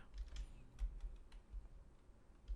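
Steady, close clicking of keys on a computer keyboard while a comment is entered into Python code, soft taps in an irregular run with no speech.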